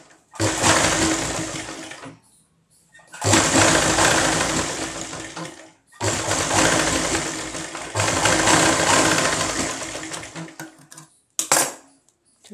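A sewing machine stitches a lined belt blouse, pushing the lining inside so it stays off the seam. It runs in four long, steady, loud whirring passes with short pauses between them, then gives a quick final burst.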